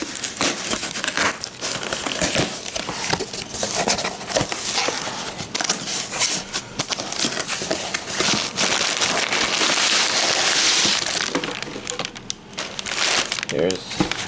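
Plastic wrap peeled and crumpled off an anime DVD: steady, loud, close crinkling and crackling that runs without letup, with a voice heard faintly at times.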